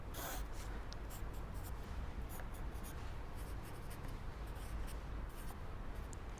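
A pencil scratches wiggly lines onto bodice pattern paper, close and continuous, with quick repeated strokes and small taps, no talking.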